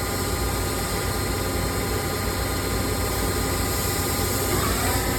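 A Kuraki KMB 11 A CNC horizontal table-type boring machine with a 4.33-inch spindle and Fanuc 16 control runs its spindle at 1250 RPM, giving a steady, loud, broadband whirring hum that holds unchanged throughout with no voices.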